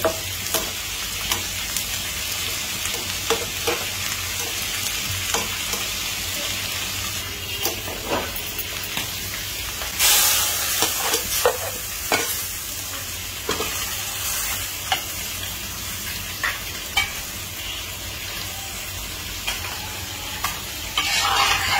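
Chopped onion frying in oil, heard as a long, steady hiss and crackle with intermittent stirring scrapes and a louder burst of sizzle partway through, close and without speech.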